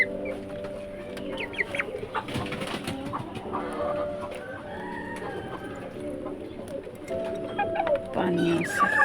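Two young roosters clucking and calling near the recorder amid other birdsong and coos, with someone talking over them.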